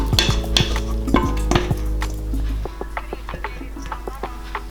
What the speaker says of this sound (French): Et maintenant, on va mélanger la crème fouettée avec le yaourt.